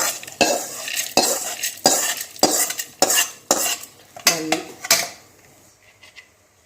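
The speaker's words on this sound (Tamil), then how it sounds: "உளுந்து கடலப்பருப்பு புளி மிளகு நல்லா வறுபட்டுருச்சுங்க" Urad dal, chana dal, tamarind and pepper are dry-roasted in a metal pan, a spoon scraping and stirring in steady, rhythmic strokes about every half second, close and clear, ending in quieter rustles.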